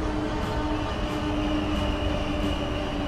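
A train in the video game Transport Fever rolls into a station, a steady, dense rumble of wheels and rail noise that holds at a constant loud level without any talking.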